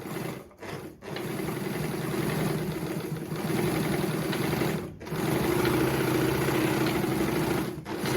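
A Jones model 461 sewing machine whirs steadily while winding a bobbin, a close, even mechanical hum that stops briefly several times as the foot pedal is released, then starts again.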